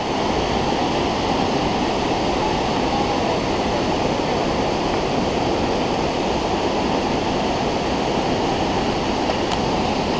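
Loud, steady roar of Burney Falls waterfall, heard from about 150 feet away, a dense continuous rush of falling water with no pauses and no voices.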